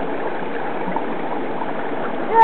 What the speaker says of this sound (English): This is actually his first time to walk in a river.